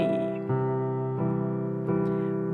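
A piano plays a right-hand triad pattern over sustained notes: warm, ringing chords change about every second, each new attack blending into the lingering tones, close and clear with no talking.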